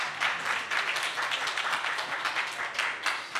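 Audience clapping at a candidates' debate in Rouyn-Noranda-Témiscamingue, a steady wash of applause from a mid-sized crowd lasting a few seconds at moderate level, with no voices over it.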